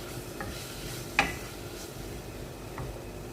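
Vegetables are stirred in a frying pan over a faint, soft sizzle, with one sharp utensil tap near the middle.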